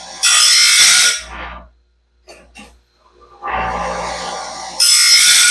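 A Norwood Stellite sawmill band ground with a standard grinding stone: two loud, bright grinding passes with a quiet gap and faint handling noises between, close and without talk.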